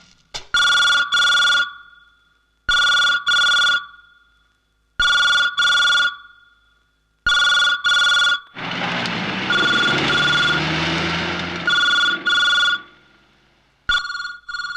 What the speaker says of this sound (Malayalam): ഫോൺ റിംഗ് ചെയ്യുന്നുണ്ടല്ലോ